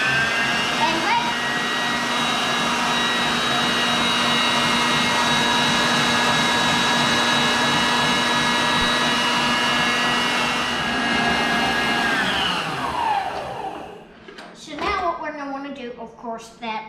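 A mixer whirs steadily at high speed while cream is churned into butter, a loud continuous whine that winds down near the end, followed by some talking.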